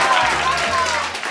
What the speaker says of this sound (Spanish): Aplaudan fuerte ahí, hombre